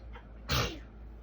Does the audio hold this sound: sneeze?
yes